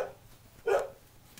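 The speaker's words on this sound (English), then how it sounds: "So my dog is barking, I don't know why." A dog barks indoors, two short sharp barks with a gap between, the second louder, against a quiet room background.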